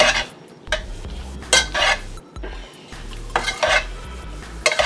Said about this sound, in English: I'm gonna stir it up some more before I put it in and to my mixtures.